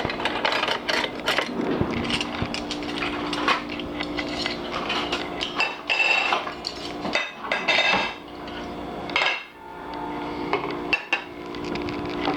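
Spoons clatter and clink against bowls of lobster egg noodles and cheese in a home kitchen, with irregular metallic taps and scrapes that are fairly close and loud, with no talk.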